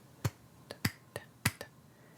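Hand claps tapped out as a rhythmic count: six sharp, quiet hits grouped in uneven pairs over about two seconds, heard alone with no talking.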